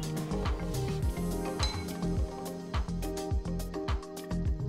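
A spoon stirs vanilla essence into cooled milk in a bowl, making repeated light clinks and scrapes against the sides in a steady rhythm under quiet room noise.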